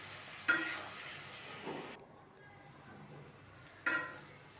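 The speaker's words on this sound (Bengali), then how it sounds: "এখন সিমগুলো কিছুক্ষণ ভেজে নেব।" Beans fry with turmeric and chili powder in a pan, a soft quiet sizzle broken by a few close stirring scrapes and clinks.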